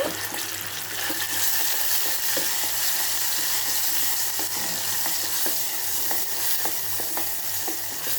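Cumin, mustard seeds and green chilli paste fry in ghee in a kadai, giving a loud, continuous sizzle with stirring scrapes and faint crackles throughout.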